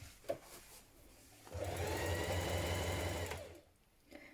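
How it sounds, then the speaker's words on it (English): A sewing machine stitches around a trouser pocket in one steady, fairly close run of about two seconds, its fast motor hum holding even before stopping, with quiet handling sounds before and after. "sew around your pocket"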